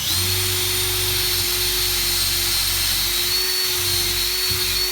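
A power drill bores through drywall into a wooden wall stud while a flat-screen TV mount is being fitted, giving a loud, steady, close whine that runs unbroken for the whole stretch.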